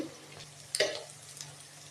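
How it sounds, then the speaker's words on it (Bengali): Chili and turmeric powder frying with ginger-garlic paste and browned onions for a mutton curry, a faint steady sizzle with one short clatter of stirring near the middle. "এবার মশলাটা একটু ভালো করে আগে আমি কষে দেবো"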